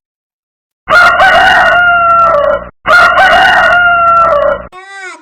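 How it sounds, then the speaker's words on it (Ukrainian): A rooster crows loudly and close, two long drawn-out calls back to back, followed by a brief fainter bird call; a voice speaks a single word. "а це півень, і він кукурікає"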